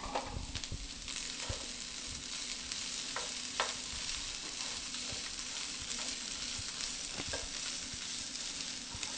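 Red and green bell peppers stir-fry in a hot pan for a rice noodle and shrimp dish, giving a steady close sizzle broken by scraping and clanking stirs, with no talking.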